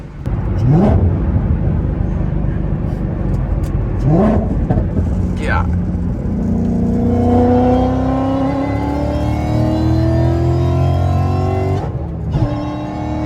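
A supercharged 2012 Ford Mustang GT 5.0 with a VMP Odin supercharger revs hard and accelerates, its rising blower whine climbing in pitch over a loud, sustained roar.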